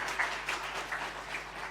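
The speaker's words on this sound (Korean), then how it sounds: "뜨거운 박수로 한번 더 격려할까요?" Church congregation applauding during a Sunday worship service, a steady wash of many hands clapping at moderate distance, filling the whole short moment without speech.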